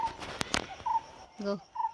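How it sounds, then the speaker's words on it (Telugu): Hill birds near a waterfall give short, repeated calls at a moderate distance, interrupted by a few sharp clicks, with faint voices in the background. "కొండ పక్షులు బాగా అరుస్తున్నాయి,"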